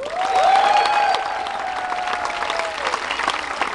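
Applause from a studio audience voting for a contestant on a Latvian dating show: steady dense clapping with a rising shout or whistle at the start, continuing evenly without talk.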